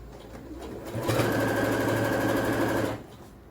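An electric sewing machine stitches a fabric door mat in one continuous burst of about two seconds, a close, rapid mechanical whirring that starts and stops abruptly against a quiet room.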